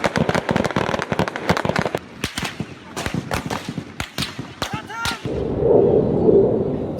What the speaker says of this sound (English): The soldiers responded with gunfire.